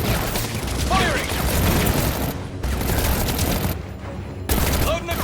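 Gunfire in the Batman Arkham Origins video game, loud sustained bursts of shots with mechanical clatter, pausing briefly and then resuming.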